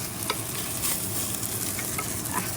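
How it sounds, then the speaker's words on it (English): Rice being stir-fried with bacon in a pan, an even close sizzle with occasional spatula scrapes and stirring sounds, no talking. "now I'm going to add the rice to this"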